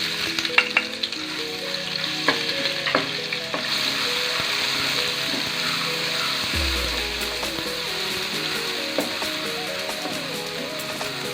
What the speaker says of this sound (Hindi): और साथ ही हम इसमें लहसुन डालेंगे।